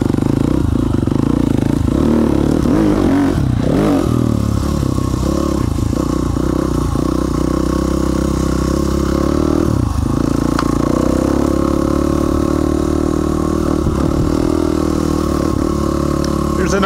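A KTM dirt bike engine chugs and revs steadily while the bike crawls up bedrock, with clatter and scraping from the rocks, loud and close throughout.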